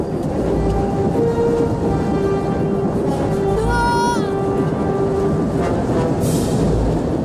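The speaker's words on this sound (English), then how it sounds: "Stop the train, Theron" A train hurtles along in the Star Wars: The Old Republic video game, a dense continuous rumble with rising tonal whines and a brief screech, loud throughout with a mix of storm-like noise.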